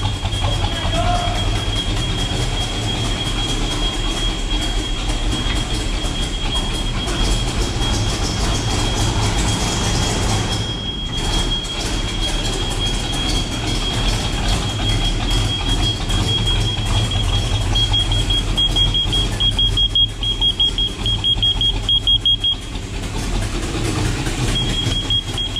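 A Chevrolet El Camino engine fitted with Holley EFI cranks while flooding, producing a loud, steady, close mechanical roar with a thin high whine that runs the full length, broken only by a brief dip midway, with no talking.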